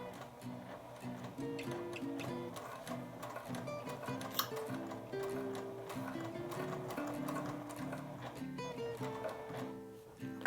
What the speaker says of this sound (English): Back stitching at the beginning and going slowly because the fabric's thicker here.